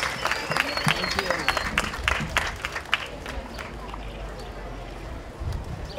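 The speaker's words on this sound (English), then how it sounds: "Let's give them a rousing round of applause." Outdoor applause at a Colombian flag raising ceremony in Lowell: scattered, uneven clapping from a modest crowd with wind noise, tapering off over several seconds while voices mingle in the background.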